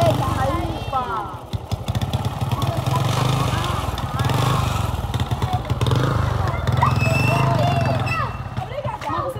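A motorcycle engine rumbles close by at a steady running note, heard under lively talk and background commotion.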